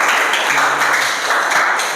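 Classroom applause, a dense burst of many hands clapping together, close and steady, with a faint voice beneath.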